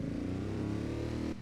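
A car engine in the Automation game, fitted with heavy duty forged conrods and limited to about 5,000 RPM, holds a steady, loud rev with dense low harmonics for over a second, then drops off abruptly at the end.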